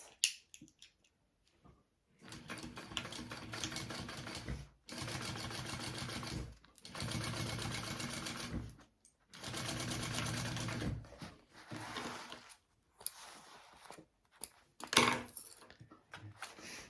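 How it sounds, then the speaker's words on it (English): A sewing machine stitches a 3/8 inch seam on a laptop bag in several loud, steady whirring runs, each broken by a brief stop, heard close with no voices. "I'm going to stitch that at a 3/8 inch seam allowance"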